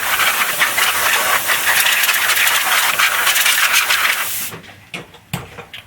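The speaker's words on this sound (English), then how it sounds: "In fact, let me use my air compressor here." A burst of compressed air from an air compressor hisses loudly and steadily for about four seconds, blowing shavings out of a freshly drilled hole in an Xbox One console case. Then it cuts off, leaving a few small clicks and taps.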